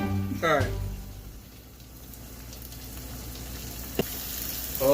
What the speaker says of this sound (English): That is frying up perfectly.